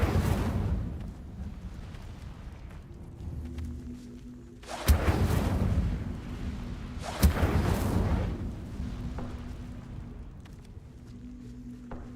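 An Incendio fire spell cast in a video game: two sharp cracks, each followed by a roaring whoosh of flame that fades over a couple of seconds, against a low rumbling game background.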